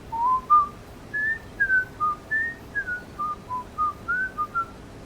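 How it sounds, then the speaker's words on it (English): A whistled television theme tune for a fishing-hole song, a lively melody of short, clear whistled notes rising and falling in a steady rhythm, close and alone over a faint background. "only they whistle the theme song."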